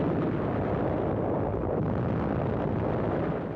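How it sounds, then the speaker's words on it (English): Artillery shells exploding in World War II newsreel footage of an assault on Japanese hillside positions: a dense, continuous roar of blasts and rumble that stays loud and steady throughout, with no voices. "Artillery shells score direct hits on Japanese positions"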